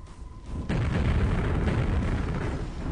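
Rocket launcher blasts in the first-person shooter Quake, with a sharp low boom near the 0.7-second mark. A dense, rumbling roar of explosions follows and continues to the end.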